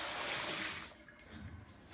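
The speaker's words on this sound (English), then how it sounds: "empty the soft water down the sink" Soft water tipped from a bowl down a bathroom sink: a brief loud gush that pours strongly for the first second, then fades into quieter splashing and trickling.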